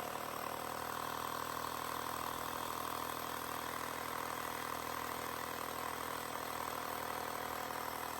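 A portable tire inflator air compressor runs steadily as it inflates a ball, giving a constant buzzing mechanical hum that stays even for the whole stretch, close and alone without speech.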